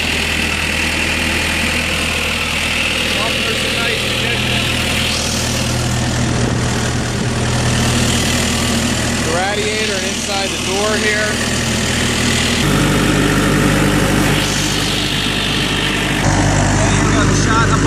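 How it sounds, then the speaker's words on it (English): Diesel engine of a 1998 Gehl 5625DX skid steer loader idling steadily with a low, constant drone that shifts pitch slightly partway through, while someone talks over it. "Here we have the engine running. The engine starts up and it runs out really well."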